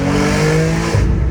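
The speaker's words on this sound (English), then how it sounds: "this car sounds so good" Heavily modified BMW M4 G82 engine revving loud and close, a dense rasping roar with a rising, slightly shifting pitch over a short burst, no voices.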